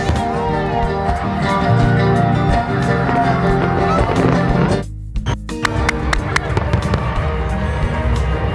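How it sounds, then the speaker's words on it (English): Loud fireworks going off nearby at a food festival, a rapid crackling barrage with sharp pops, a brief lull, then more bursts resuming. "Guys, look, fireworks!"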